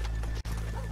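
Horse hooves clip-clop close by in the Red Dead Redemption 2 video game, a brief run of steady hoofbeats over a low rumble, alone for about a second.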